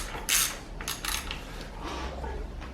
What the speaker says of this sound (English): The next step is to tighten one of the pinch bolts to hold the axle in place.